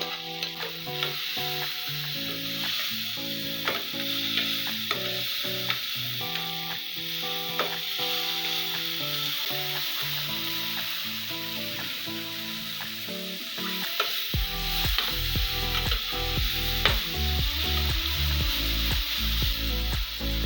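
Plantain and toppings frying in a pan for pizza, a continuous sizzle with frequent stirring scrapes and clinks throughout, close up with no talking.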